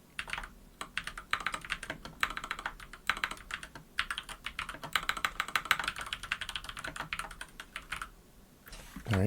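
Typing an essay title on a computer keyboard, a steady stream of close, crisp key taps in quick irregular bursts with brief pauses, ending in a louder keystroke.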